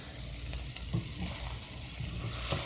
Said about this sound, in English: I'm going to add the sausage and tasso back in